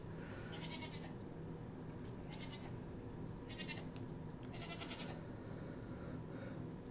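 A young pet miniature goat bleating in short, repeated high calls over a steady background hum, at moderate distance and fairly faint.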